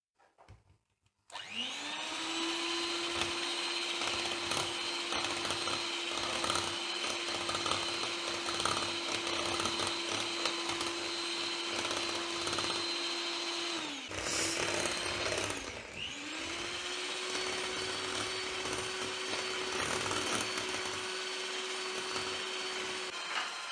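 An electric beater whirs steadily through two cups of chilled whipping cream in a bowl, a loud, even motor hum that dips briefly mid-way before resuming.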